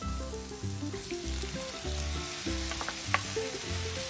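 Chopped tomato goes into a pan of onion and chili frying for paneer bhurji, making a low, steady sizzle with occasional stirring clicks, partly under soft background music.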